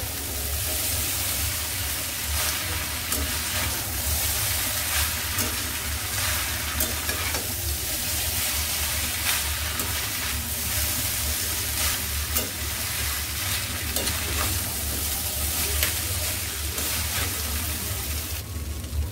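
Chow mein being stir-fried on high flame, a dense, unbroken loud sizzle with constant tossing and scraping throughout.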